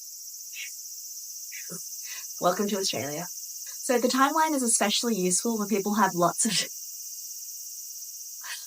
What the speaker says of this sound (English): I don't know if you can hear the cicadas outside.